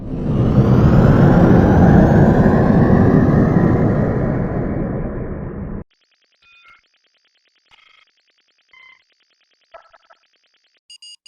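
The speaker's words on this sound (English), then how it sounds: "Potter, take us out. Maximum thrusters." Starship engines firing at maximum thrusters in the Star Trek Online video game on Xbox One: a loud, steady roar for about six seconds that cuts off abruptly, followed by a few faint, brief electronic chirps.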